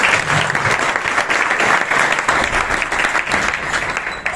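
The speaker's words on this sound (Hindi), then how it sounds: "तो उनके लिए भी एक बार जोरदार ताली" Loud, dense applause from a seminar audience, many hands clapping steadily and close by for the full length, with no talk over it.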